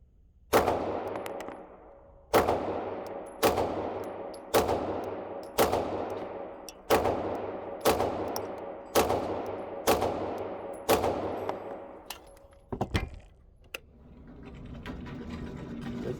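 Archon Type B pistol fired in a rapid, evenly spaced string of about ten sharp, loud shots, each with a brief ringing decay, followed by a couple of quicker pops and then a low rumble, no talking.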